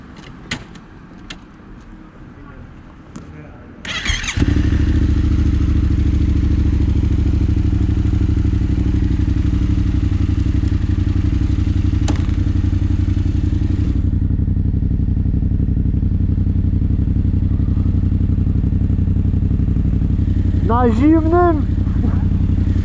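A Yamaha Raptor 700 quad bike's engine starts after a few clicks and clatters, then idles loud and steady nearby, with a brief voice near the end.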